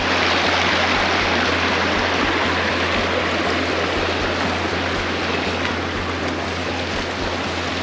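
Mountain creek water rushing steadily in the Canadian Rockies near Three Sisters Creek, a loud, continuous broadband roar with no pauses.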